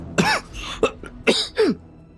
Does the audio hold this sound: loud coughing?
yes